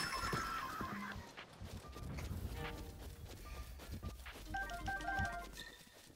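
Horse whinny from the video game Breath of the Wild, heard amid game sounds and music with hoof clatter, moderately loud and layered with other effects.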